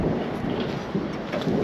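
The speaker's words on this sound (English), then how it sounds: "That's definitely thunder." Thunder rumbles during a storm on the Salkantay trek in Peru, a low rolling roar that swells briefly, mixed with wind noise.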